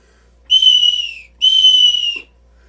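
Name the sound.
stacked small 3D-printed whistles blown together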